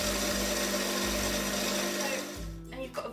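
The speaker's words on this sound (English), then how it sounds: "So I'm going to pop the blender on now." A blender whirs loudly and steadily as it blends a berry and maca mixture, with a brief change in pitch before the motor is switched off and winds down near the end.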